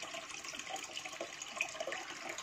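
Water runs steadily into a tank for a common snapping turtle, a continuous close splashing rush of filling water at moderate level with no voices.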